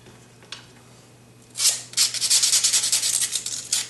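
A sandpaper block is rubbed by hand along a plastic seam. The first part is quiet, then rapid, close back-and-forth scratchy strokes come in a steady run with no talking.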